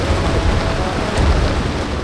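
A rainstorm batters a sailing boat at sea in the Pacific doldrums, making a dense, continuous roar of rain and wind with low rumbling underneath, loud and unbroken throughout.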